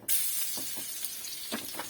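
Garlic hits hot oil with a sudden loud sizzle that settles into a steady hiss, with a few soft clinks.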